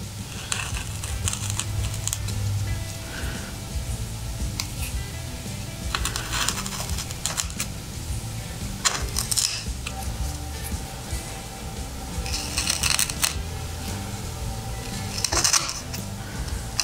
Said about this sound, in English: we'll cut with our chisel